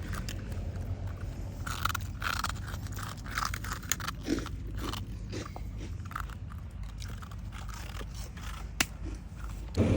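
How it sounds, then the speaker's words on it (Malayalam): An animal chews crunchy, crisp food close by, producing repeated sharp crunches and bites in an irregular rhythm throughout. "അവൻ തിന്നത് കറുമുറു"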